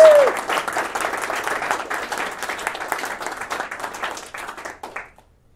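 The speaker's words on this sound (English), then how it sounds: "Well, let's clap first." Audience at an open source software conference talk applauding steadily for about five seconds before it quickly dies away into silence.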